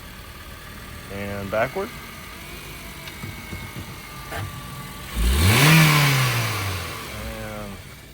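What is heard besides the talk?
2007 Honda Civic engine started and revving while moved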